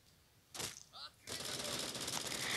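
Gunfire in the video game Bullet Force: a sharp shot, then a brief burst, and then a sustained run of rapid automatic fire, fairly close and dense, with no talking over it.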